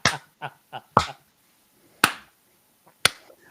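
Sharp, bright claps fire off in quick bursts: a fast cluster of four, then two louder isolated ones about a second apart, each crisp and close with a short decay.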